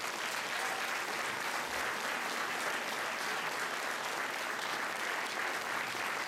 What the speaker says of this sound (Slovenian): dajte še en tak lep aplavz za vse organizatorje